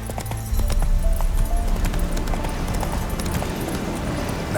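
Roach the horse gallops in The Witcher 3, steady rhythmic hoofbeats pounding close and loud throughout, with a faint whinny and ambient game sounds layered over the clip-clop.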